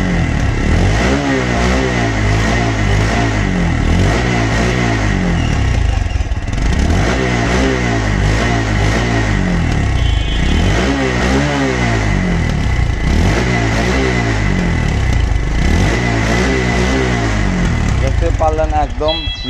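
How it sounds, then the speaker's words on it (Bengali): A TVS Stryker 125cc motorcycle engine runs loud and close, its revs rising and falling in repeated surges across the whole stretch, with a steady rumble underneath. "বাইকটি দেখাবো সাউন্ড"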